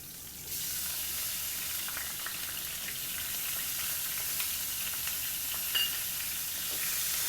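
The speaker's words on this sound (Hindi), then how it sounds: "थोड़ी देर इसे हल्का सा फ्राई होने देंगे।" Green chillies frying on a low gas flame for amla pickle, a steady soft sizzle and hiss from the pan with faint crackles, close and even throughout, no talking.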